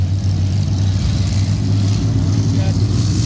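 Modified race cars under green-flag racing at Midvale Speedway, a steady loud drone of engines roaring continuously throughout, with no break in the dense mechanical rumble.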